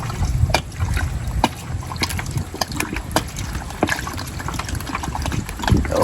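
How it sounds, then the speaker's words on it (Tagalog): Water pours and trickles into a pot of pork rib soup, a steady splashing stream with occasional knocks and clatters, close and moderately loud. "Dagdagan mo ng tubig."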